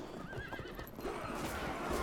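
Horse neighing in the Field of Glory strategy game, a wavering whinny rising over a dense battlefield din of hooves and clatter, with no talk.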